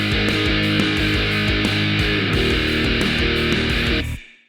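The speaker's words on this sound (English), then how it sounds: "even if we whack that gain up now, it still sounds pretty bad" An electric guitar played through Logic's Amp Designer with the gain turned to maximum gives loud, heavily distorted rhythmic chords that stop abruptly near the end and then ring out briefly, with no talking.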